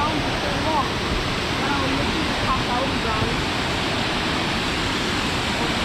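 Esk Falls in the Eskdale valley roars as a steady, dense broadband rush of falling water, loud and close throughout with no pauses.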